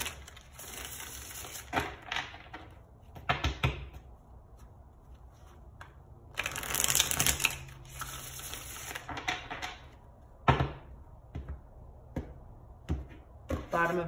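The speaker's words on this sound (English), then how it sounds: "Two more shuffles." Soft riffling and papery slaps of cards being shuffled, in several short bursts with quieter handling between them, close but fairly quiet.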